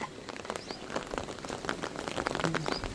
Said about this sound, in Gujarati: વરસાદ મસ્ત પડે